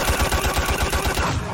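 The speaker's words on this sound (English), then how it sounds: "So if you just do jab, hook, overhead, uppercut, kick barrage" DIO's kick barrage combo attack in Minecraft's A Bizarre Datapack: a loud, rapid machine-gun-like stream of punchy hit impacts, about ten per second, running steadily and alone.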